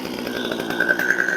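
A chainsaw warms up before cutting a knotty hemlock log, giving a short, close, buzzing idle with a slight rise in pitch toward the end, alone and without talk.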